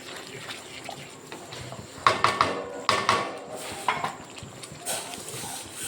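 A ghee and oil gravy for a paneer curry is stirred in a pan, with sharp spoon-on-metal clinks and scrapes in short bursts, close by, over a quiet steady background.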